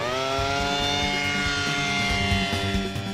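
A small MAV drone taking off, its rotors giving a steady close whir with strong layered tonal harmonics that hold even and loud for the whole span.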